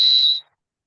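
A single short, shrill referee whistle blast from a basketball officials' training class, loud and close, cutting off sharply into silence.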